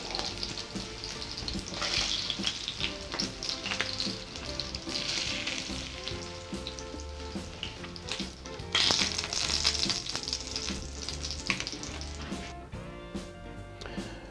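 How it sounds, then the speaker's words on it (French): Meat sizzles steadily in a frying pan, cooking for a Caesar salad, with a constant crackling hiss and occasional taps and pops, close up and without talk. "It takes around 5 minutes for each side to have this golden color of our meat."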